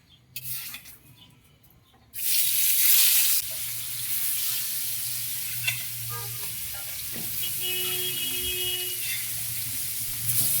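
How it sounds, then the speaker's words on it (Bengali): Shing fish (stinging catfish) frying lightly in a pan for a Bengali fish curry, a steady loud sizzle starting suddenly after a quieter moment, with faint clinks of turning the pieces. "আমাদের এটা ভাজি করে নিতে হবে, হালকা, বেশি কড়া করে ভাজবো না।"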